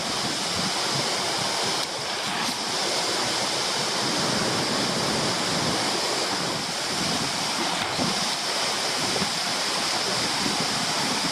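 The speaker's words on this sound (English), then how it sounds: "it's a really impressive waterfall" Heavy flow of Adamsons Falls, a Tasmanian waterfall after a lot of rain, roaring as a dense, steady broadband rush that stays loud and constant throughout with no voices.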